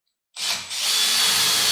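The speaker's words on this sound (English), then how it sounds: "after marking all the holes from underneath, just got to drill through" A power drill starts abruptly and bores steadily through wood for bolt holes on a CNC machine build, a loud, continuous high-pitched whir with a brief dip early on before settling into an even grind.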